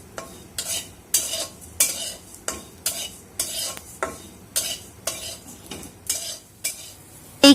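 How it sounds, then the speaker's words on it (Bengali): Five-spice, cumin and fennel seeds are dry-roasted in a pan, stirred in regular rhythmic scrapes and rattles about every half second, close and clear with no talking. "এবারে প্রথমে যে 5 ফোড়ন, জিরা এবং মৌরি মিশিয়ে রেখেছিলাম সেগুলো একটু টেলে নিচ্ছি।"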